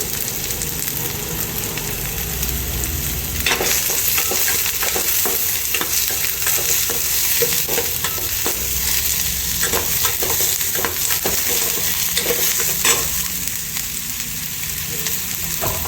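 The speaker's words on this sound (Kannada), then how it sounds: "ಸ್ವಲ್ಪ ಎಣ್ಣೆ ಹಾಕಿ ಈರುಳ್ಳಿ ಮತ್ತು ಬೆಳ್ಳುಳ್ಳಿ, ಶುಂಠಿ, ಚಕ್ಕೆ, ಲವಂಗ ಎಲ್ಲ ಒಟ್ಟಿಗೆ ಹಾಕ್ಕೊಂಡು ಇವಾಗ ಸ್ವಲ್ಪ ಎಣ್ಣೆಯಲ್ಲಿ ಬಾಡಿಸ್ಕೋಬೇಕು" Onion, garlic, ginger, cinnamon and cloves sauté in a little oil, giving a loud continuous sizzle broken by a run of quick scraping stirs in the middle.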